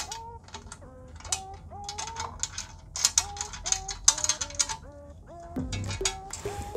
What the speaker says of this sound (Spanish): Y así más o menos metemos el tornillo y colocamos el buje. Y lo enroscamos un poco.